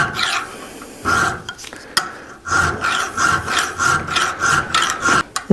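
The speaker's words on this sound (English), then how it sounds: "I'm just going to use a round file" A fine round file rasps back and forth on the metal of a 1965 car steering part, the strokes coming in a quick, even rhythm of close scraping passes after a few hesitant starts.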